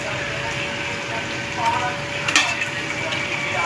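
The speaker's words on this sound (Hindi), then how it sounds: "घी डाल के ना इसको भून लेना" Mutton is stir-fried in ghee for a bhindi gosht stew, giving a steady close sizzle with occasional scrapes and clinks of a utensil against the pot.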